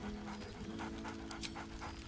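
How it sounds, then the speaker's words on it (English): A dog in Baldur's Gate 3 panting quickly and steadily at close range, a soft rhythmic breathy huff with faint whimpery tones, no clear barks. "Scratch barks merrily in something like agreement."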